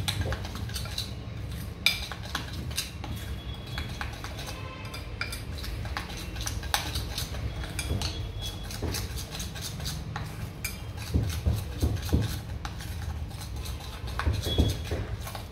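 A spoon stirs nankatai batter of wheat flour in a bowl, a close run of rapid rhythmic clinks and scrapes against the bowl's sides that continues steadily without talk.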